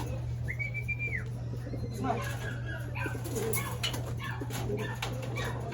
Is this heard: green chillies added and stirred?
no